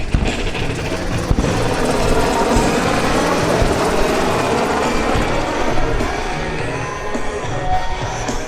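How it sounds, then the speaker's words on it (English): A UH-60 medevac helicopter flies in during a combined arms demonstration at the Quonset, Rhode Island airshow, its rotor thudding rapidly in a loud, steady chop over a dense engine roar, with faint crowd noise behind it. "the UH-60 medevac helicopter is inbound to rescue the wounded soldier"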